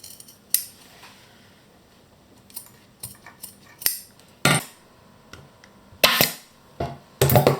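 Scissors trimming upholstery fabric on the underside of a cast iron dining chair back, a series of crisp snips and cuts arriving in irregular bursts, close up against a quiet room.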